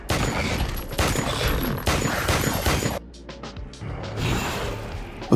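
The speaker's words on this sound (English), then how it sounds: "she fired a burst." Dense bursts of automatic gunfire from a monster movie, loud and close, with rapid overlapping shots filling the first three seconds before breaking into separate sharp cracks and mechanical clatter.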